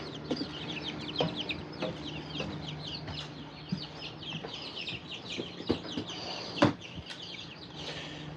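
Several chickens on a ranch cluck and chatter continuously at moderate distance, with scattered sharper squawks and a few taps over a low background hum.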